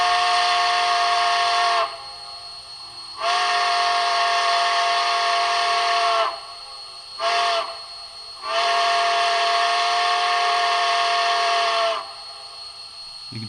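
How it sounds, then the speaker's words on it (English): A six-chime steam whistle, a reproduction of an Atchison, Topeka and Santa Fe whistle on a model train, sounds in several long blasts with one short toot between, a rich multi-tone chord over a steady hiss. "Atchison, Topeka, and Santa Fe reproduction 6 chime."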